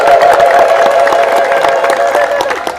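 A crowd gathered at a charity meal for the poor ululates and claps together, a loud burst of trilling cheers over scattered rapid handclaps that carries on steadily for a few seconds.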